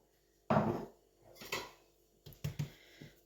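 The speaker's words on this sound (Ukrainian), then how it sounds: "Тепер викладаю тісто з тарілки." A ball of dough is turned out from a plate onto a flour-dusted table for potato varenyky, giving one soft thud followed by a few lighter taps and knocks, close and quiet, with no talking.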